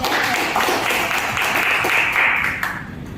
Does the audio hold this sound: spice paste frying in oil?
no